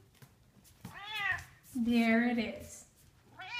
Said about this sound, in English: Where's my meow